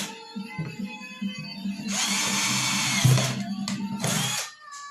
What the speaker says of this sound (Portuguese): E aí é só vir com a furadeira e fazer da mesma forma que nós fizemos com a lata.